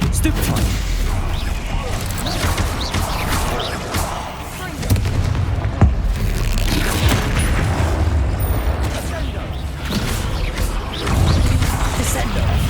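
Hogwarts Legacy spell combat, with Bombarda blasts booming and crashing among dense, continuous battle noise and impacts, loud and busy throughout, while a voice calls out over it.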